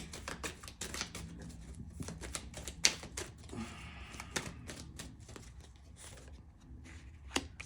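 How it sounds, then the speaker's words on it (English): Tarot cards being pulled from a deck and handled, making quiet, close, crisp clicks and light shuffling snaps in an irregular rhythm. "So let's go ahead and pull some cards real quick."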